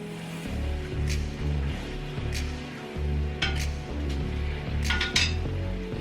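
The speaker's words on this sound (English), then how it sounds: "So make sure you guys are still continuing to stir your butter." A metal utensil stirs butter as it browns in a pot, making repeated clinking and scraping strokes against the pot in an uneven rhythm, close and fairly loud.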